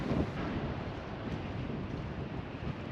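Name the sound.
wind blowing on a beach walk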